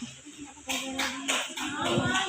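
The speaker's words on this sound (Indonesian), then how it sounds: "Berikan tepuk tangan." Clapping at an Indonesian high school gathering for a new student council head, sparse claps at first that swell into broader applause with voices murmuring underneath.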